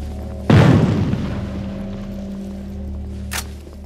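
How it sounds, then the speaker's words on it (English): A frag grenade goes off in the video game Haze as one loud, deep boom that fades into a long low rumble. Later comes a brief bright hiss, with no voices. "Frag grenade!"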